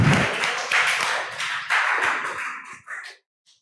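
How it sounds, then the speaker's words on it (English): A school audience applauds a student speaker after her speech, a dense burst of clapping that holds steady for about three seconds, then thins out and stops, with a few scattered claps at the end. "A round of applause."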